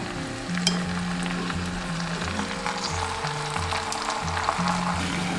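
Squid sizzles and fries steadily in a clay pot over oil with tofu, scallion, ginger and garlic, a continuous close crackle with a low hum beneath.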